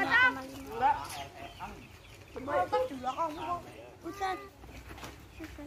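A chicken being held clucks in short, agitated bursts at close range, mixed with speech from people nearby during an outdoor nature-measuring lesson.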